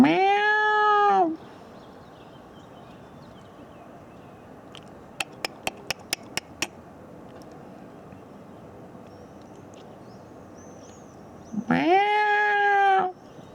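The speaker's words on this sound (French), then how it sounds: "C'est un très joli chat." A cat gives two loud, close meows, one at the start and one near the end, with quiet room tone and a few sharp clicks between them.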